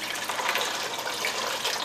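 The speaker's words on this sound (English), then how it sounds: "I'm going to fill that up with water," Water runs steadily from a tap into a container, a continuous hissing splash with no pauses, close and fairly loud.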